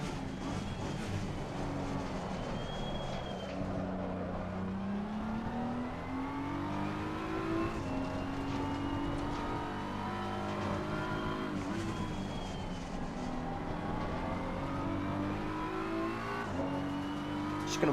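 Race cars racing in Gran Turismo 7 or Assetto Corsa Competizione, a BMW among them: continuous engine drone with rising and falling revs through gear changes, several cars layered close together, steady and unbroken.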